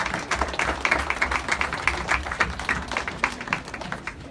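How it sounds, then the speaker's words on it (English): A crowd at a bowling alley's opening ceremony claps in a steady, dense round of applause that fades toward the end. "So please give Christine a nice round of applause."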